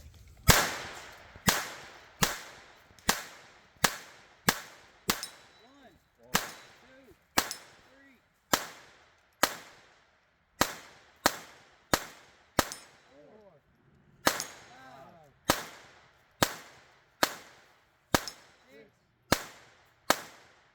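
Rimfire gunshots from a Voodoo 360 rifle and a Sig Sauer P322 pistol at a rimfire match, about twenty sharp cracks in steady strings with brief gaps, some followed by metallic target pings, while people talk between shots.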